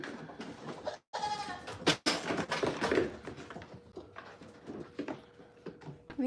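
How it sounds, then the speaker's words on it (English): Goats bleat on a small farm and home property, a few wavering cries near the mic amid busy background noise and faint voices. "These goats are being extra naughty today."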